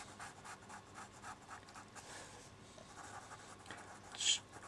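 Pastel pencil strokes on textured paper, a series of soft, close scratchy rubs in a quick, uneven rhythm, with one brief brighter scrape near the end.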